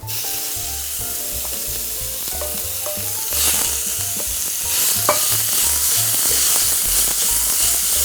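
Ground pork belly sizzling and frying in a preheated iron pan, a continuous loud crackle that grows busier partway through, with scraping and stirring strokes mixed in and no voices.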